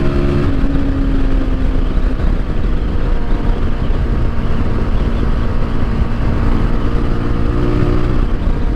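A Voge 250RR motorcycle engine with its exhaust removed revs loudly and continuously, a raw, rough roar with shifting pitch and no muffling, close by throughout.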